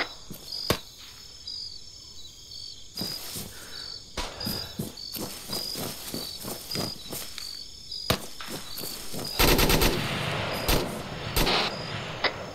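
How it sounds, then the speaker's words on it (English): Rifle shots in the military shooter Arma 3, a series of sharp cracks fired singly and in short irregular bursts over a steady insect-like ambient chirr, with a denser cluster of rapid shots near the end. "I'll put up a couple of rounds of them"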